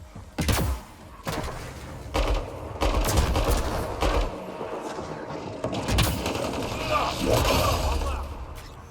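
Gunfire in the Mass Effect Andromeda multiplayer video game, sharp shots and short bursts punctuated by booms, loud and close, with a player talking over the firefight.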